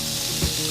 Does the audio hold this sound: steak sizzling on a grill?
yes